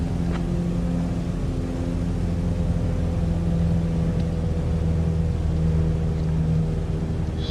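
Steady, loud droning engine of a Cessna 162 Skycatcher light aircraft climbing out after departing runway 23 at Dare County, heard from inside the cabin as a continuous hum with no talking.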